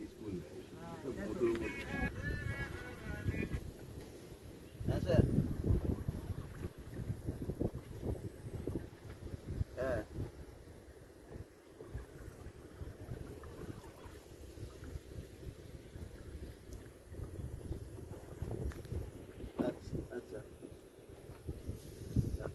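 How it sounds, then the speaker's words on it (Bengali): Boat ride on a river between Garuchira and Sikia Jhora, a low rumbling engine and water wash mixed with wind buffeting the microphone, continuous throughout, with people talking faintly over it. "বোট রাইড শুরু হয়ে গেছে।"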